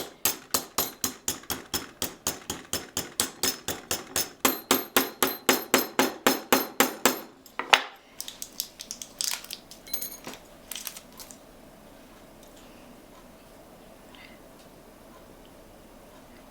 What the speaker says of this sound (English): there'll be a little bit more hammering to do